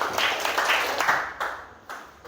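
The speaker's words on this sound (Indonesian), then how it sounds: "Kita kasih aplaus untuk kelompok 1 dan 2 dulu." A classroom group claps for student groups one and two, a dense burst of hand clapping that fades in steps with a few final claps, fairly close and loud.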